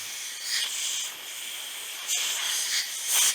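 Carb cleaner sprayed onto the carburetor of a Troy-Bilt lawn mower, heard as close, steady hissing bursts of aerosol with brief gaps between them, fairly loud and with no talk.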